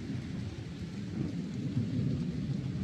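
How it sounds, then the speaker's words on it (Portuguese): Low rumbling thunder from a storm building over a rural smallholding rolls on steadily for a few seconds, with a faint rain-like hiss over it and no voices. "Olha lá o trovão."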